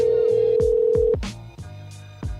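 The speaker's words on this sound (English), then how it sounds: "You should hear a ringtone." A steady telephone tone sounds, then cuts off into a series of repeated electronic ringback tones and clicks, loud and close.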